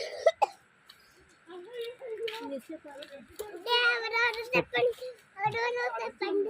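A child coughs a few times in quick, sharp bursts near the start, outdoors on a nature outing, then children's voices chatter and call out over the rest.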